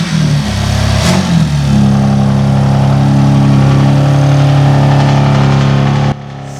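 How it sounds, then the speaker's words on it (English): A rebuilt BMW M4 engine, repaired after a crash, runs loud and close with a steady droning hum after a brief stumble early on, then cuts off abruptly near the end. "Start that car."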